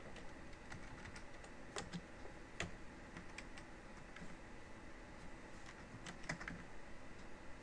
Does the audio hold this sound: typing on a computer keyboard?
yes